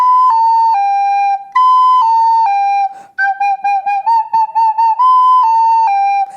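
Sustained wind-instrument notes slurred together without tonguing, gliding and blurring between pitches, then a wobbly run of short smeared notes before a final held tone, close and loud with no talking.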